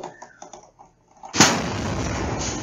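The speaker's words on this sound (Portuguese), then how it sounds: "E a explosão aconteceu ali, ó" A vehicle tire bursts suddenly while being inflated in a rural district, a single loud, sharp blast that turns into a sustained roaring hiss of escaping air. Quieter indistinct sounds come before the blast.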